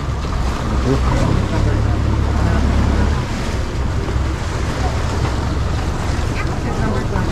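Steady rumble of a passenger boat crossing to Boracay Island, with wind buffeting the microphone and a low engine drone throughout.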